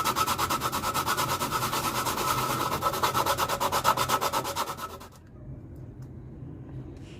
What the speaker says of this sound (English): sanded the edges smooth